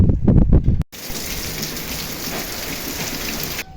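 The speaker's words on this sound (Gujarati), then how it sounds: "વાવણી લાયક વરસાદ થઈ ગયો" A brief burst of voices, then an abrupt switch to steady, heavy monsoon rain soaking farm fields, hissing and pattering on surfaces.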